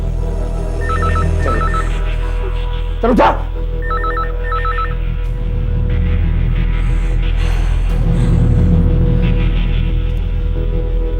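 A telephone rings in a Hindi TV crime drama, with two short bursts of electronic trills several seconds apart over a low room hum and a brief thump in between.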